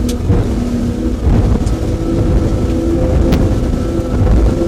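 Sunseeker Hawk 38 powerboat running its twin engines at full throttle near 40 knots, a steady loud roar with rushing wind and water noise, continuous and close without any voices.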